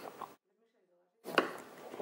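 A knife chops garlic on a cutting board in a few quick taps, split by a short silent pause, with voices talking nearby.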